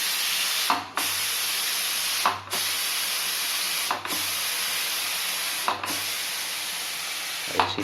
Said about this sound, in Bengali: এরপরে সর্ষে দিয়ে দিলাম এর মধ্যে, এগুলো ফুটবে আর তেল ছেটকাচ্ছে